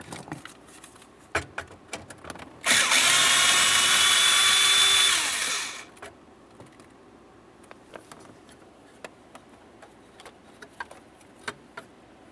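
A power tool runs in one steady burst of about three seconds while backing out a 5.5 mm bolt from the steering column of a 2001-2005 Ford Explorer Sport Trac, with scattered small clicks and taps of handling before and after.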